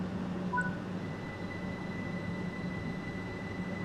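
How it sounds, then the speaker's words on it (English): A train in a railway simulator game rolls along with a steady low rumble and a faint constant tone. The train is heading into carriage sidings for cleaning, and short electronic beeps sound early on. "We are heading into the carriage sidings to get the train cleaned."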